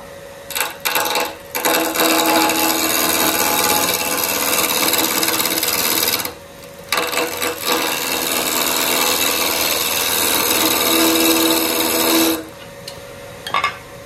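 A skew chisel cuts a tenon into spinning wood on a lathe for a shimmer top, giving a steady, loud, rasping scrape in long continuous passes broken by a couple of short pauses. No one speaks.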